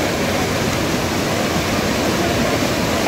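A waterfall near Mussoorie pours down in a loud, unbroken broadband roar of falling water, steady and close with no pauses.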